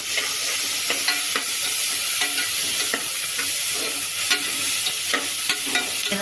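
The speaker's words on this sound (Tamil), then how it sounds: "வெங்காயம் பண்ணி உப்பு போட்டால் சீக்கிரம் வதங்கிடும்." Onions sautéed with salt for a hotel-style veg kurma sizzle steadily in a pan, with frequent light scraping clicks from stirring heard close up and continuous throughout.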